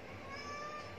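A cat lets out a single faint, drawn-out meow lasting about a second in a quiet indoor space.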